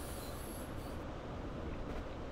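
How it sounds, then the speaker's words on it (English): A train in Train Simulator 2018 on the Innsbruck to Munich route rolls along with a continuous broad rumble of rail noise and a faint high wheel squeal, steady and moderately quiet, with no voices. "we're on minimum power and the train's still accelerating."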